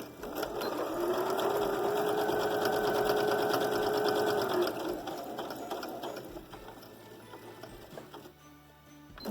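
A sewing machine stitches batting and fabric together for a Christmas quilt panel, whirring steadily and close for about five seconds before slowing to a halt, followed by softer handling noises.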